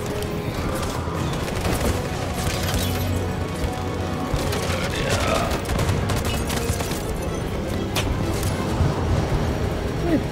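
Dense gunfire from a Detroit: Become Human firefight crackles almost continuously, mixed with mechanical clatter and game sound effects, at a steady moderate level throughout.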